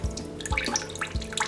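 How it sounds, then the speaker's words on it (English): Coconut water drains from a cracked fresh coconut into a cup, making close, bubbly trickling and splashing with a few soft drip-like plops spaced through it. "once the water starts to come, you catch the water, because this is good coconut water"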